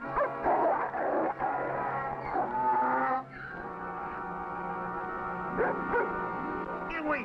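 A dog barks, yips and whimpers at a man in a 1956 western, a string of sharp close barks giving way to whiny yelps, with a voice shouting over part of it.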